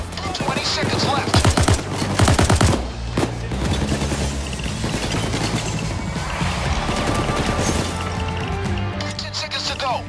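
Rapid gunfire crackles in a video game during a police assault, with dense bursts of shots early on that settle into a steady din of combat noise and voices.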